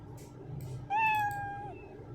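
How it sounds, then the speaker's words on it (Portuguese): The Scratch programming cat sprite gives one clear, mid-length meow, close and clean, after a short stretch of quiet background noise. "Vou colocar aqui e vou dizer para ele miar 3 vezes"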